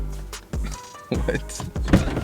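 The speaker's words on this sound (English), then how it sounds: "You gotta open the door." A BMW F82 M4 coupe door being opened close by, with short mechanical clicks, a thunk and a brief motor whir, while people talk over it.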